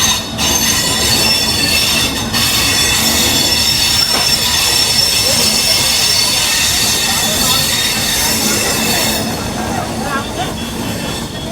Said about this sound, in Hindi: अभी अपनी लखनऊ रायपुर गरीब रथ एक्सप्रेस निकल चुकी है लखनऊ जंक्शन से।